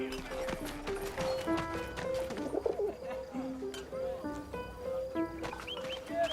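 Pigeons coo softly in the game 11-11: Memories Retold, gentle repeated low calls layered with horse hooves clip-clopping and other bird chatter in a busy outdoor scene.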